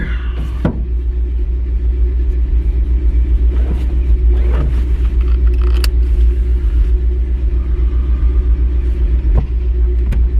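A car being driven around the block with a steady low engine rumble throughout, loud and close from inside the cabin, with a few brief knocks and clicks over the drone.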